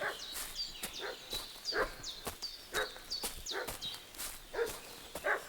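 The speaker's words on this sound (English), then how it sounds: "Hear the dog barking." A dog in Kingdom Come Deliverance 2 gives repeated short barks at a steady rhythm, mid-distance, alongside footsteps and faint high chirps in an outdoor setting.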